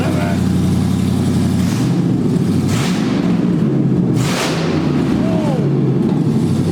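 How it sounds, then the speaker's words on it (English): A 2011 Dodge Charger's 5.7L V8 with open BBK shorty headers idles with a loud, deep rumble, then revs hard in several rising bursts, close by, while people shout and talk excitedly over it. "we're gonna start this bad boy up and see what she sounds like with open headers"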